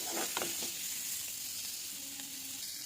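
Chopped onions sizzle steadily in a small amount of hot oil with turmeric for egg bhurji, a loud continuous crackle with a few stirring clinks near the start.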